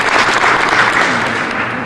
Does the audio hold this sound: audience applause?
yes